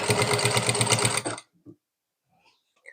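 A sewing machine runs steadily while stitching elastic onto a ready-to-wear belt saree, then stops abruptly, leaving a few faint clicks of handling the fabric.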